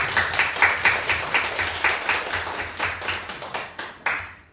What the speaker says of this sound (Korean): 우리 감사함으로 박수로